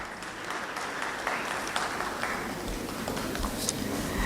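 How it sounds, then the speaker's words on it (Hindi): A burst of clapping from a crowd at a Women's Day awards event in Nagaur Town Hall, dense and steady throughout, moderately distant. "एक बार इनके लिए जोरदार ताली हो जाए।"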